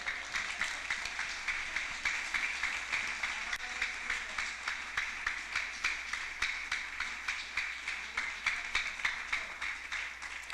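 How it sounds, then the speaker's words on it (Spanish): Church congregation applauding steadily at a Spanish-language evangelical service, a dense, sustained patter of many hands heard from a slight distance, holding even for the full stretch. "Bríndale un aplauso al Señor."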